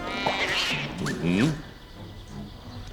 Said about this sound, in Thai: เสียงแมวเหรอทำไมในท้องพระโรงมีแมว